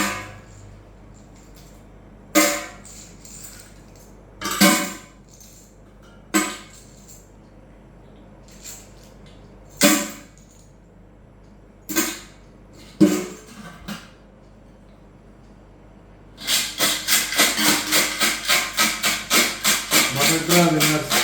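Numbered slips from 1 to 50 dropped one at a time into a container for a prize draw, sharp rustling thumps every couple of seconds, then a rapid continuous shaking rattle as they are mixed.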